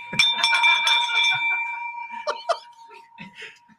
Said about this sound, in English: Let's ring that bell for him